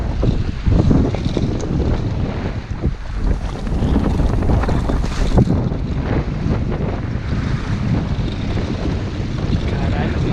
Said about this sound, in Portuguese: o vento tá forte. Tem pelo menos uns 20 e poucos nós de vento